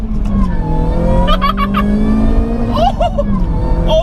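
Supercharged 216 bhp Ford Focus engine running close and loud, a steady low drone with a rising rev, and a voice speaking briefly over it.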